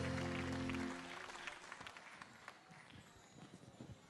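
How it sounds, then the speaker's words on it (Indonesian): A television talent-show audience at Q'Academy applauds a performer from Aceh; scattered, fairly faint clapping rises after a brief burst of music and continues with uneven bursts. "tepuk tangan untuk saudara kita dari Aceh"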